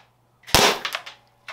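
Capacitors wired to a pigtail cord blow when plugged in and trip the breaker, giving one sharp, loud pop with a brief crackling tail and a smaller snap after it.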